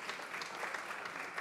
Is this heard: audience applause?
yes